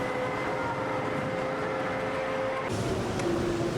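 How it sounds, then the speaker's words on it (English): Toy trains run at the kids' section of a large model train display, giving a steady mechanical rumble and whir with a faint tonal hum, continuous for several seconds amid hall ambience. "There's a kids section over here with toy trains."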